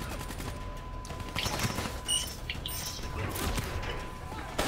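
Gunfire in the Call of Duty Black Ops 3 campaign, with bursts of rapid automatic shots and scattered impacts amid a busy battle mix, moderately loud throughout.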